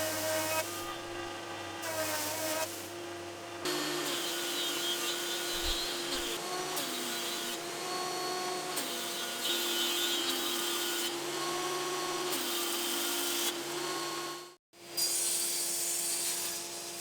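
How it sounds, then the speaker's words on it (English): A jointer and thicknesser plane wood with a sustained, whining machine drone, interrupted by repeated cutting passes that shift in pitch and loudness, then a brief drop to near silence before the drone returns. "it's off to the jointer and the thicknesser to get everything flat and square"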